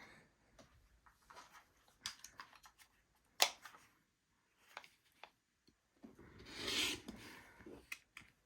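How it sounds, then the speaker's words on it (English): Scissors or a cutter working through quilt fabric along a marked line at a table, a few faint, scattered snips and rustles with quiet gaps, one louder crisp cut and a longer rubbing stretch near the end. "Let's go ahead and cut on that line right there."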